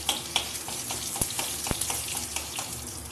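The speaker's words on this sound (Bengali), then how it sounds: "রসুনটা একটু ভালো করে নাড়াচাড়া করে নিতে হবে।" Garlic frying in hot oil with a black cumin tempering as it is stirred, a steady close sizzle with sharp scraping taps of the spatula against the pan, no voices.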